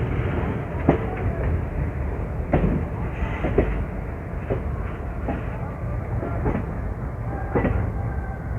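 A passenger train on the Barmer–Rishikesh festival special runs along its tracks with a loud, continuous rumble and scattered rhythmic clacks of wheels over rail joints.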